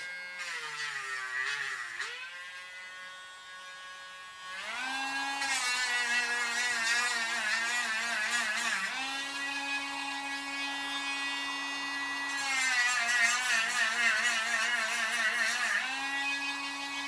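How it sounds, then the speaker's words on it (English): A rotary power tool sands a glued part for a homemade fire soap bubble setup, giving a steady, close, high-pitched whir whose pitch drops and rises as the bit loads and frees up, with no talking. "And to make it fit better, I'll probably need to sand it a little bit."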